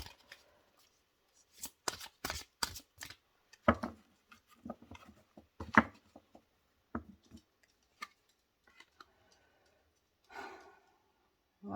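Oracle cards shuffled by hand in a quiet room, a run of crisp riffling bursts and soft slides with short pauses between them, close and fairly faint, with no talking.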